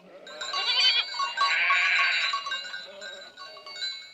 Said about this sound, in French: Si je ne fais pas erreur, voilà Pie, ta chèvre